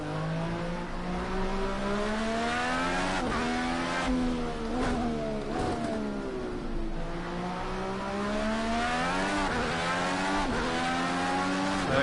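Indy cars racing in Project Cars 2, a loud, continuous engine whine that rises and falls through gear changes, with several cars close together and sustained revving throughout.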